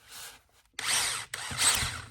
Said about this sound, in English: I'm just going to drill right here behind where the line tie's at